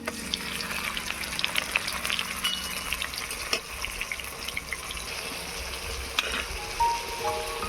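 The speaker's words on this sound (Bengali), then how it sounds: "আদা রসুন পেঁয়াজটাকে লাল লাল করে ভেজে নেব" Ginger, garlic and onion paste frying in mustard oil in a pan, a steady close sizzle with occasional stirring scrapes and clinks throughout, no voices.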